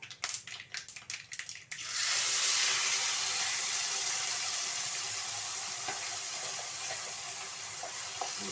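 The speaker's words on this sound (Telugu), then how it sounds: "ఆవాలు వేసిన తర్వాత ఆవాలు చెప్పట్లు ఆడినాయి కదా" Mustard seeds hit hot oil for a tomato chutney. A quick burst of sharp crackling pops gives way to a loud, continuous sizzling hiss that slowly eases, close by and without talking.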